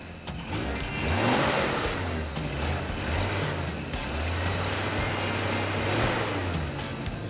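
An off-road AMC Pacer's engine takes throttle, revving up from idle in a few rising, sustained pulls, close and loud with no talking over it.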